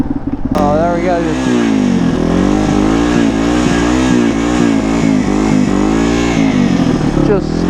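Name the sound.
vehicle doing a burnout on a snowy bridge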